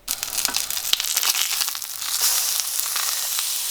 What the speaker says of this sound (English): I'm adding that skin side down and cooking that until it goes nice and crisp